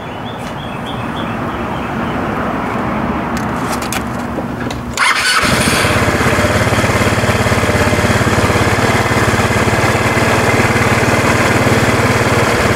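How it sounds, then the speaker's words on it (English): A GY6 scooter engine cranks and catches at about five seconds, then settles into a steady, loud, close idle drone that carries on to the end, with faint birdsong under the earlier quiet stretch. "At this moment, you can turn your scooter on."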